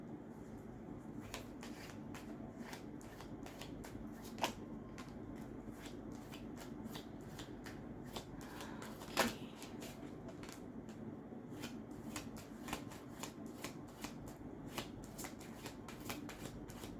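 Tarot cards being shuffled and drawn, soft crisp riffles and flicks of the deck close by at low volume, with a couple of sharper taps standing out from the quiet papery rustle.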